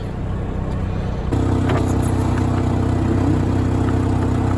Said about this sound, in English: Well, it's got an exhaust leak. Can tell that.